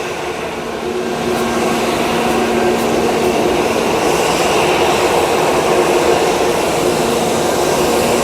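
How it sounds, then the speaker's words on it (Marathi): Loud, steady roar of an IndiGo passenger jet taking off at Mumbai International Airport, building in the first second, then holding a powerful continuous rumble and whine. "इंडिगो प्लेन उड़ान भरने के लिए तैयार है"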